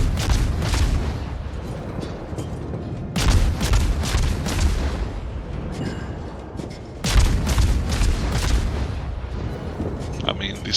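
Guns of the Khabarovsk warship in the World of Warships naval game fire in three heavy, booming salvos a few seconds apart, each loud burst trailing off into rumbling before the next.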